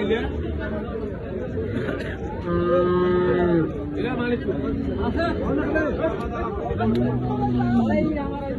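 Big butcher cattle at a livestock market low repeatedly in several long, close moos, over a constant babble of people talking and bargaining nearby.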